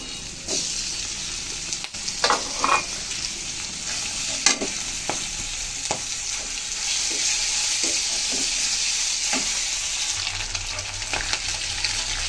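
Deboned hilsa fish frying in a spiced pan, a continuous loud sizzle with occasional spatula scrapes and clacks, close by, with no voices.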